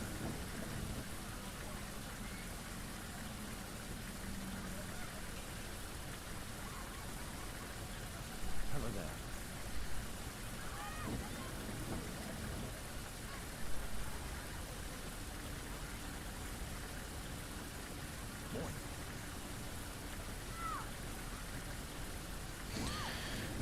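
Rain and thunder in the video game Tourist Bus Simulator, a steady wash of rainfall with a few soft rumbles and crackles of thunder, continuous and moderately loud throughout.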